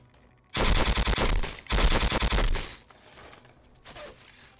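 Two long, loud bursts of automatic rifle fire rattle close by in Conflict: Desert Storm, a Gulf War squad shooter, separated by a brief pause and followed by fainter scattered shots.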